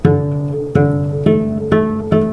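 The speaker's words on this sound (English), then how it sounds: "down here we get a thinner kind of tinny sound" A cello bowed in the wrong spot on the strings gives a thin, tinny sustained tone, repeated as five steady bow strokes with sharp attacks, loud and close, alone without speech.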